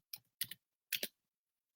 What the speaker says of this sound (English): I'm just typing, say something.